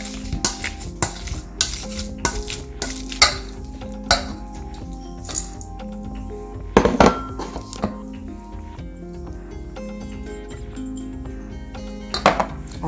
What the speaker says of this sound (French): Nous allons écraser le tout avec un pile patate.